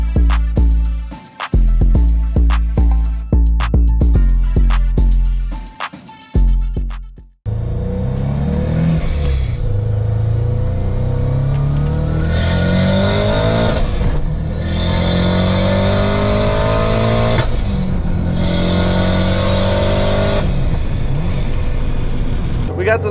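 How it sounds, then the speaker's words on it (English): A 2011 Subaru WRX STI built past 600 all-wheel horsepower revs hard through several quick gear changes, then pulls loud and steady on the road, engine note rising and falling between shifts with clutch chatter in the gaps. "You hear the clutch chattering in between shifts."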